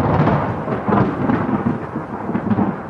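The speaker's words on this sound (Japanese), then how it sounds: "とある雨の夜に、" Heavy rain pours steadily on a stormy night with deep rolling thunder rumbling throughout, loud and continuous with no voices, from a game trailer.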